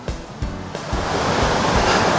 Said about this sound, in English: we're coming up on a little creek here, or stream, that forms a really nice waterfall